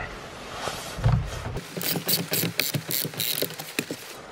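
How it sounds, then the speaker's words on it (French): A ratchet wrench loosening the steering wheel bolt on a Golf 6 GTI: a close, rapid string of clicking pawl ratchets after a brief thump, continuing in quick uneven bursts to the end. "Et avec un cliquet, on bloque le volant avec les genoux pour pas qu'il tourne. Hop, et on va démonter ça."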